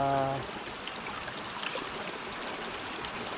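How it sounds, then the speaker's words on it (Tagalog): Spring water from a natural source flows steadily near a garden, a soft continuous watery rush running throughout, preceded by a brief snatch of voice at the start. "meron tayong nakuhang mina ng bukal dito sa ating halaman malapit"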